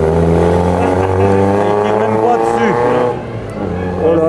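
A historic race car accelerating up a hill-climb course, its engine loud and close with steady harmonic drone, then rising revs and a sharp gear change before pulling away again, with a commentator talking over it.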